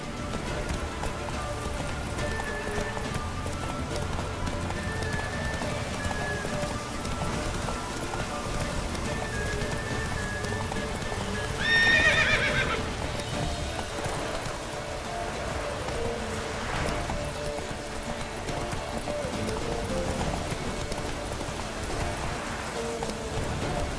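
Roach the horse gallops in The Witcher 3, with a steady run of hoofbeats blended into a continuous rain-like wash, plus a brief brighter burst midway.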